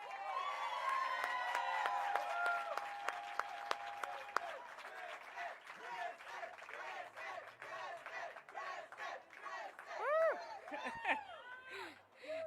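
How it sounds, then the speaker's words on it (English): Applause from a crowd at Kristen Bell's 2019 Hollywood Walk of Fame star ceremony, a dense, steady sheet of clapping with scattered whoops and cheers that rise again near the end. "Let's give her another round of applause."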